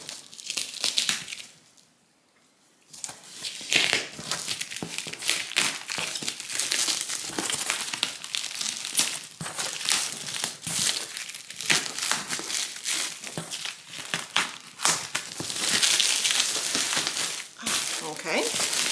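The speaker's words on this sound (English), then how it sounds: "So I'm going to do an unboxing and we'll see what's inside." Scissors cut and plastic packaging crinkles and crushes while a beekeeping supply package is unboxed, a close, steady rustling that runs almost the whole time with only a brief quiet gap near the start.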